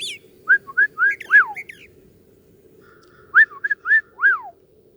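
A person whistles short, rising and falling chirps imitating a bird call in an outdoor bush setting, in two quick bursts of four or five notes each with a pause between, over a faint background hum.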